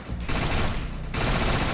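Dense, continuous gunfire from the video game Defiance crackles in a rapid burst.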